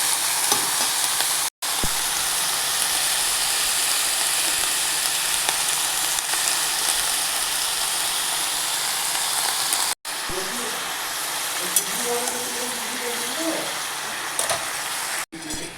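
Capsicum and brinjal sizzle steadily in a hot pan, a loud continuous frying hiss with scattered stirring scrapes and clinks, briefly cut off by a few short gaps.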